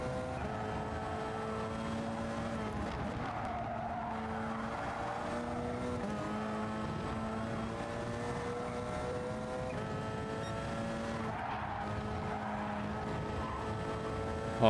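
Race car engines in the GT Sport video game drone steadily at high pitch, several cars shifting gears together with rising and falling whines throughout, loud and continuous with no talking.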